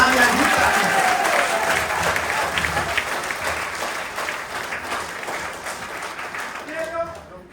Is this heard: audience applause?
yes